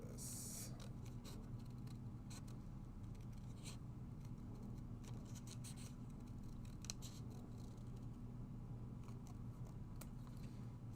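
Soft, repeated snipping of scissors cutting paper in a library, faint and irregular, over a steady low hum with no talking.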